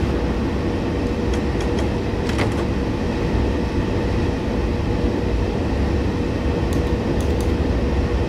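A train in the Train Simulator 2019 game rolls toward London Euston, a loud continuous rumble of wheels and motor with a few faint clicks and ticks on top, no voices.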